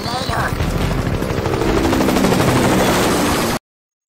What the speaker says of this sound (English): They're shooting him.